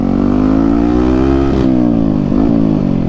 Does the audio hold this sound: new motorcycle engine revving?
yes